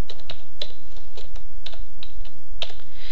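Someone types a page title on a computer keyboard, giving a quick irregular run of close, crisp key clicks over faint background hiss, with no talking.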